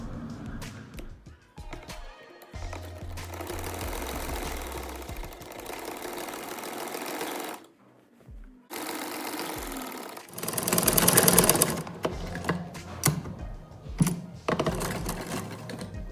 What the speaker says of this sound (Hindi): अब मैं फ्रंट और बैक को आपस में मिला के तो इनकी साइड की सिलाई लगा लूँगी लंबाई की तरफ।